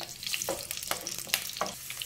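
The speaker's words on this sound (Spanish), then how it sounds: "en un sartén con aceite caliente, voy a sofreír la cebolla, los dientes de ajo y la rodaja de jengibre" Onion, garlic cloves and a slice of ginger fry in hot oil in a pan, giving a steady close sizzle with a few stirring scrapes and pops.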